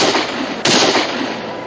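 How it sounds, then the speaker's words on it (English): A single sharp gunshot cracks out loud and close from the direction of a frontier garrison, its report ringing out over a wash of outdoor noise. "Shots are coming from the garrison"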